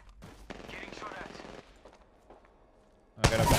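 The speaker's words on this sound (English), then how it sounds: "Getting shot at." Gunfire in the Apex Legends battle royale game: a loud burst of rapid automatic shots erupts near the end, after a stretch of quieter game noise and rustling.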